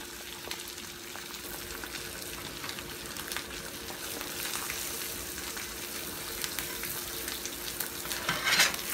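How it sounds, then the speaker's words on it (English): An egg fries in a pan, a steady close sizzle with faint crackle that swells slightly toward the end, alongside soft stirring scrapes, with no voices. "just showing you how to fry my egg"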